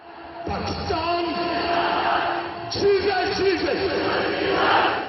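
A large crowd of civilians at the Wagah border ceremony shouts loud, rousing slogans in unison, voices swelling in repeated waves that stay dense and close throughout.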